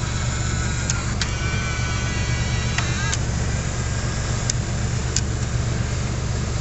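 A motorized flip-out screen on a Power Acoustik car stereo whirs steadily in a vehicle over a low engine-like hum, with several small clicks and brief whining sweeps as the mechanism moves.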